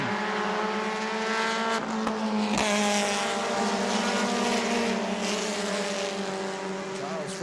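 Race cars at New Smyrna circle the track in a steady, loud engine drone with shifting pitch as several cars pass close together, continuous throughout.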